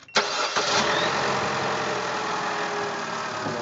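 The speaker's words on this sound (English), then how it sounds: "I'm going to start the car up" A car engine cranks briefly, catches, and settles into a steady close-up idle with a low, even rumble.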